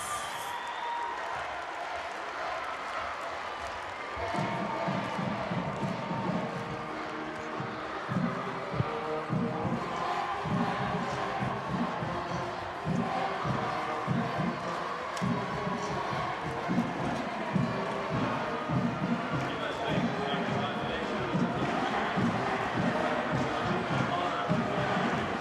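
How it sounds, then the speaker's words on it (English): Volleyball crowd at the Bob Devaney Sports Center during a 2014 Nebraska Class B state championship match, a steady loud roar of cheering and clapping filling the arena, with an announcer's voice talking over it. "Great crowd tonight here at the Bob Devaney Sports Center."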